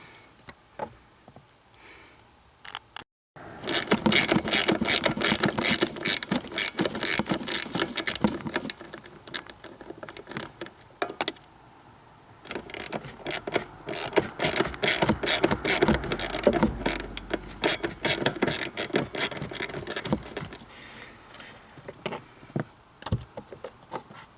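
A screwdriver backs screws out of a Ford Taurus blower motor resistor, a close, busy rapid ratcheting clicking that runs in long stretches with a brief pause in between.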